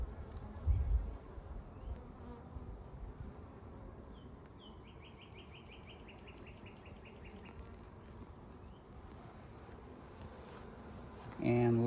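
Honey bees buzz steadily around an opened hive during a frame inspection. The hum is soft and constant, with a bird chirping faintly in the background and a few handling knocks at the start and end.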